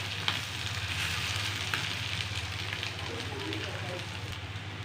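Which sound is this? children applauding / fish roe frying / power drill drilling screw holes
fish roe frying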